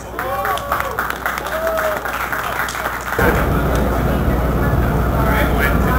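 A crowd at a spoken word poetry open mic claps for poets LJ and Enfinite, dense applause mixed with voices and cheering that grows louder and fuller midway through.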